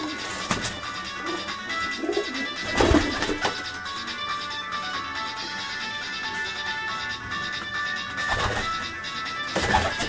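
Pigeons of the Missa breed at a home loft, soft intermittent cooing amid background noise, with a few sharp knocks and bursts of clatter scattered through.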